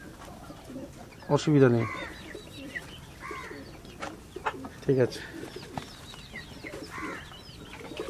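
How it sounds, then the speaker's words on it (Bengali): Fancy homer pigeons coo softly in a pigeon sale setting, low murmuring calls scattered under people talking nearby. "এও শৌখিন পায়রা, ফ্যান্সি হোমার"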